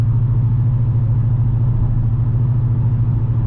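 Steady low engine rumble of a 2018 Dodge Challenger R/T 392 cruising on a highway, a constant drone heard from inside the car with no talking.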